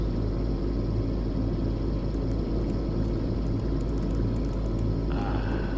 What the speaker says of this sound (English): The sound of that engine. Smooth like a hummingbird.